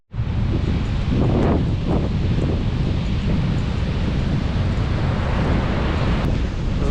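Ocean surf rolls onto a beach where forest meets the sea, a steady loud roar of waves heavily mixed with wind buffeting the microphone, continuous throughout with no talking.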